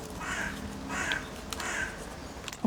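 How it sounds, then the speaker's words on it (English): Several crows caw in a loose sequence, three or four harsh calls spaced about half a second apart, moderately near over a soft outdoor background hiss. "Appropriate crows making sounds for this part."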